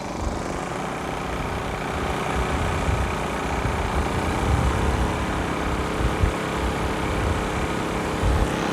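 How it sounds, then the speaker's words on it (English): Two generators of different brands, one a Honda, run in parallel under load, giving a steady, continuous low engine drone with a rough, throbbing rumble throughout. "Two generators, different brands."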